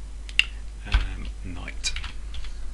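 Short bursts of computer keyboard typing while renaming a view in Revit architectural software, a few light, close key clicks with quiet background noise.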